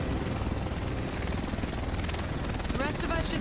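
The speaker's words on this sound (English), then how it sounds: "The rest of us should be in this chopper." A helicopter arrives in the video game The Division, its steady rotor thrum and engine whine filling the scene while voices talk over it.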